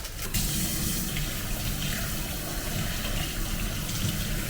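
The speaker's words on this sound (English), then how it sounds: "I'm gonna get a few leaves of lettuce and I'm gonna wash it" Tap water runs steadily over a few lettuce leaves being washed in a sink, a close, continuous rushing splash with no talking.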